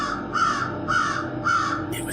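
Crows caw in a forest: three rhythmic, harsh caws evenly spaced over a steady background hum, with no voices.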